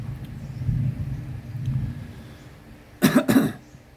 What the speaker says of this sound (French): Oh, tonnerre.